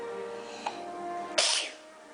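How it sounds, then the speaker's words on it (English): A child sneezes once with a sharp burst midway, after a faint earlier catch of breath, close and clear over a quiet room hum. "I'm going to sneeze."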